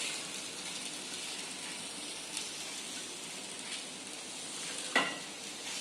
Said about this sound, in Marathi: तर आता आपण कांदा भाजायला घेऊया